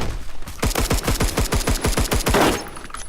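Rapid assault rifle fire in Roblox Phantom Forces, a steady burst of about fifteen sharp, evenly spaced shots close up, ending in a brief scrape and quiet.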